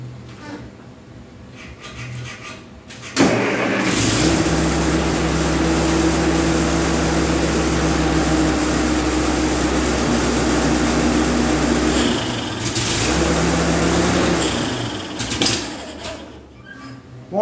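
A 1949 Ferguson TE20 tractor engine that won't take throttle runs steadily and loudly at close range, starting after a quieter lead-in, dipping briefly near the middle and then picking back up.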